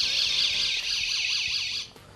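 Portable door alarm going off, a loud, steady high-pitched electronic wail with a warbling sweep, continuous for about two seconds before cutting out abruptly.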